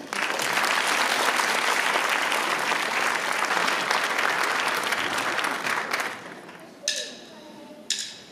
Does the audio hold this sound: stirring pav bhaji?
no